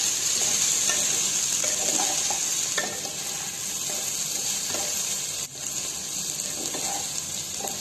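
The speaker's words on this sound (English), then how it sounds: "I'll be putting the potatoes now, so you can put them and mix it properly." Potatoes and mixed vegetables for veg biryani sizzle in a pot with a continuous frying hiss. Close stirring scrapes and clatter sound now and then.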